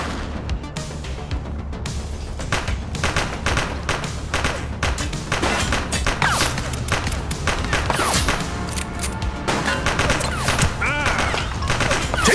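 Dense, rapid gunfire from a police shootout in the game The Precinct, sustained bursts of sharp cracks and thuds packed closely together at loud volume for the whole stretch.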